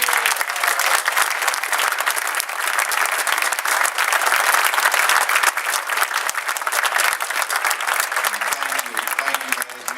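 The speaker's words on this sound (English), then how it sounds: "if you would please stand up, and we give them a big applause" A football crowd applauds the coaches' wives as they stand at a national signing day event, loud sustained clapping filling the room at a constant level throughout.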